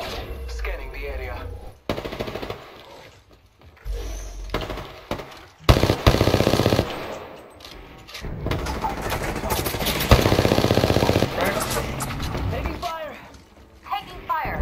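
Repeated bursts of gunfire in a squad-based shooter video game, coming in loud clusters separated by brief lulls, mixed with game voice lines and other combat noise.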